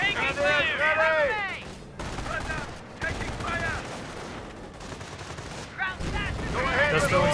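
StG assault rifle fire in the Company of Heroes video game, rapid overlapping bursts of automatic gunfire with ringing echoes and brief gaps, loud and dense, with a voice talking over the battle.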